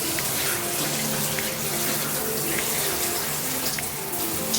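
Water runs continuously from a tap into a bathtub while hair is rinsed, a steady hiss and splash with small uneven spatters, close by.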